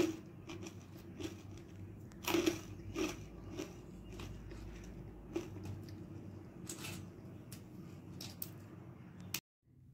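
Someone bites and chews crunchy fried corn-flour kurkure up close, with repeated crisp crunches and a few sharper bites in a steady chewing rhythm over quiet background.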